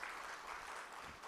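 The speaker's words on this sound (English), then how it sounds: "big round of applause for all the participants and industry leaders and technocrats" Audience applause at the Pune Expo 2024 fills the moment with a brief burst of dense, steady clapping that sounds somewhat distant and soft.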